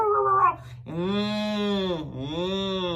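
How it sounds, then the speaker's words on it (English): Dogs on a street give drawn-out howling, whining cries. A short yelp is followed by two long rising and falling tones, loud and fairly close. "More dogs are barking."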